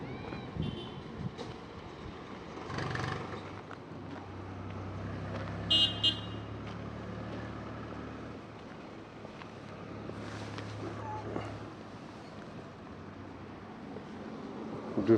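Traffic on a road near Gokarna, Karnataka: a continuous low rumble of vehicles and trucks passing close by, with a brief car horn toot in the middle.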